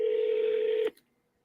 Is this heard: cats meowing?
no